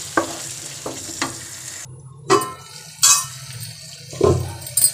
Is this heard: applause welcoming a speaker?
no